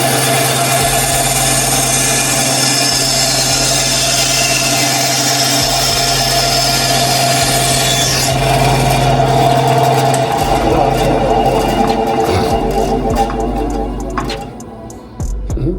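A power saw cuts slowly through a wooden board for a hat rack, a loud sustained motor whine and rasping cut that shifts pitch midway and winds down near the end, close by.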